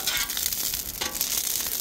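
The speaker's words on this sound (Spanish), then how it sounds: "echamos primero unos chiles que se vayan dorando aquí" Chiles fry in lard in a pan, giving a loud, steady, close sizzle that crackles without pause.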